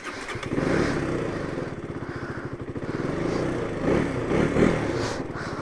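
A Yamaha R3 motorcycle with a Yoshimura full exhaust system idles while warming up on a cold day, a close, loud, steady engine putter with a few brief revs rising and falling.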